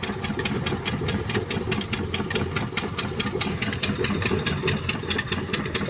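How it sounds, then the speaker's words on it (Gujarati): A tractor idles and runs steadily while pulling a groundnut opener on a farm, a continuous mid-pitched engine drone with a fast, even ticking pulse and no voices. "ઓપનર હાલે છે।"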